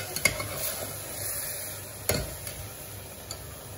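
Spinach biryani mixture with ground palak paste being stirred in a pan, giving soft scraping strokes with a few sharper utensil clinks over a faint steady sizzle, fairly quiet and close.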